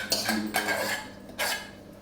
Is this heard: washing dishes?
yes